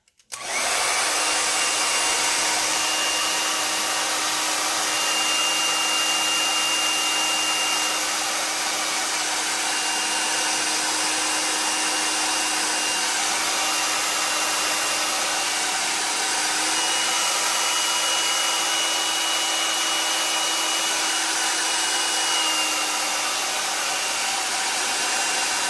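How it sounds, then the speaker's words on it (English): A regular handheld blow dryer runs steadily at close range, drying chalk paste for a Chalk Couture craft project; a continuous loud whooshing roar with a faint whine holds for about twenty-five seconds, with no talking. "I'm just going to dry it with a regular blow dryer."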